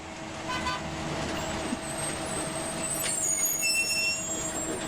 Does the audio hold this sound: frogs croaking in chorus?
no